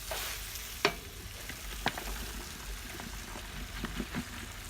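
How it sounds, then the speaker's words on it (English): Beef sizzling and frying in a large pan, with a steady crackle broken by a few sharp stirring clanks and scrapes. "I'm going to let this fry a little bit before I add the broccoli"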